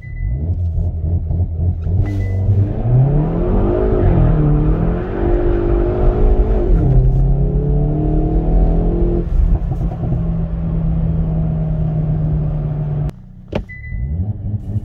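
A Hyundai i30 N fastback accelerates hard in winter during a 0-100 run, its engine note climbing through several gears with brief drops at shifts, loud and close, then cutting to a quieter idle near the end.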